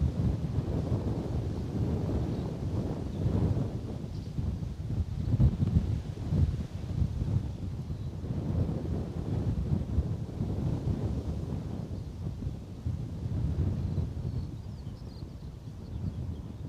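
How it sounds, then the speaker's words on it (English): Wind buffets an outdoor airport camera at Bristol Airport, a steady low rumbling roar that swells and eases throughout, loud and close with no voices. "that is the wind catching the camera there"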